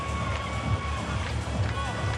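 Dense crowd noise from spectators at the Crankworx Cairns pump track event at night, a steady broad roar of many voices with a commentator talking over it throughout.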